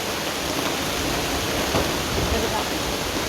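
Heavy monsoon rain pouring down with water running nearby, a dense steady hiss filling the scene, loud and close, with faint voices underneath.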